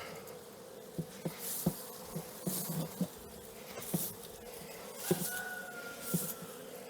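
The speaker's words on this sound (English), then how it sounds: "I'm gonna brush some bees over a little bit" Honey bees buzzing softly around an open hive frame as they are brushed off during a late-season honey harvest, with scattered light knocks and rustles over a steady hum.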